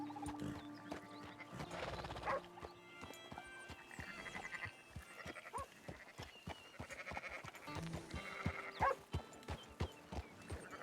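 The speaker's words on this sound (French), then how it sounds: "Oh, des moutons." Sheep bleat repeatedly in the video game Red Dead Redemption over busy clip-clopping hooves and a layered ambient backdrop, with occasional whinny-like calls mixed in.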